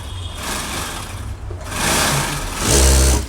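A sewing machine runs a straight half-inch seam on the back panel of a small child's school pants, a steady mechanical whir that surges louder toward the end.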